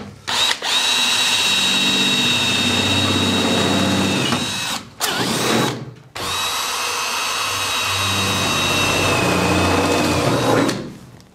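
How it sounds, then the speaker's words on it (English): A power drill bores holes to mount 4x4 awning brackets on an overland camper, running in loud sustained bursts with two short pauses between. "The point of no going back, I'm now going to put more holes."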